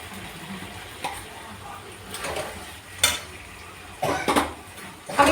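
Boiled soybean chunks go into a pan of ginger and green chili paste, giving faint sizzling with a few clinks and scrapes of a utensil against the pan, close by.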